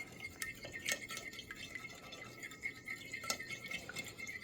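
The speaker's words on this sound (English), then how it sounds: "scrape all of that saffron out of there. Give that a good mix around." Spoon stirring a saffron mixture in a bowl for croissant French toast, soft clinking and scraping ticks repeating irregularly, close but quiet.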